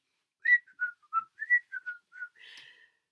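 A melodic whistled tune of about eight short notes, rising and falling, clear and close, ending in a breathier trailing note, with no other sound around it.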